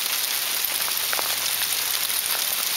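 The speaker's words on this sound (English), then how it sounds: "Hailstorm out of nowhere on the south end of Salt Spring Island." Spring hail pours down outdoors on the south end of Salt Spring Island, a soft continuous hiss of pellets with a few sharper ticks standing out, moderately loud and unbroken by talk.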